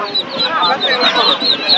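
Busy clucking and squawking from many chickens and ducks close by at a market in Haluaghat, overlapping continuously with crowd chatter in the background.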